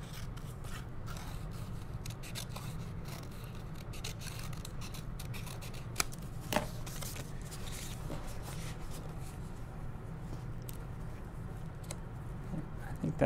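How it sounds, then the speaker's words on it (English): Scissors cut paper for a drawing, making quiet, close snipping and rubbing scrapes over a steady low room hum, with a couple of slightly sharper cuts midway. "so I'm gonna cut this a little bit here."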